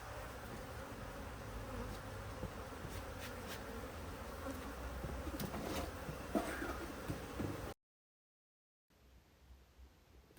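Honey bees buzzing around a hive during winter preparation, a steady dense drone that runs continuously before stopping abruptly, then returning more faintly after a short silence.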